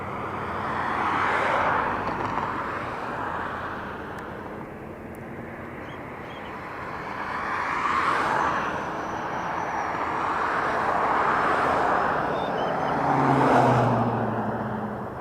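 A Southwest airliner takes off at Las Vegas Harry Reid International Airport, its jet roar broad and steady and swelling in waves as it rolls and climbs, heard from a distance with no talk over it.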